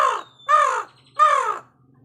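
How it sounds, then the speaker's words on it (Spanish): A crow cawing three times, loud and close, each harsh call roughly half a second long with short pauses between, against a quiet background. "Este es el sonido del cuervo."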